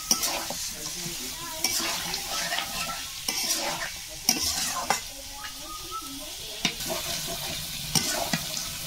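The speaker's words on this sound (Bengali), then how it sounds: "মাংসটা মশলার সাথে ভালো করে কষিয়ে নিতে হবে।" Duck meat sautéing with spices in a pan before pressure cooking, a constant close sizzle with repeated sharp stirring scrapes and clatters at irregular intervals.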